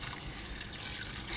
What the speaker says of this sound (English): I'm going to pour over some water now.